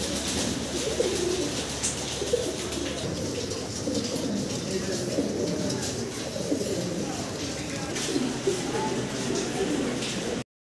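Many pigeons in a collection of quality birds cooing continuously and softly up close, with voices faintly in the background.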